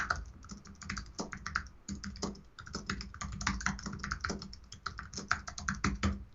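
Fingers type a code comment on a computer keyboard in close, rapid bursts of clicking keystrokes with brief pauses, steady throughout with no speech.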